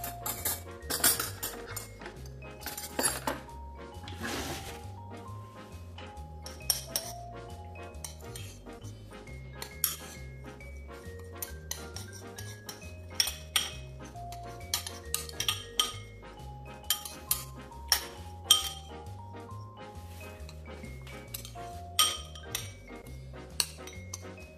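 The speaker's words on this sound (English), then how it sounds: "Okay, so what you're gonna do is you're gonna stir this up." A utensil clinks against a dish while mustard and pepper are stirred together for slow-cooker brisket, repeated light taps and scrapes over quiet background music.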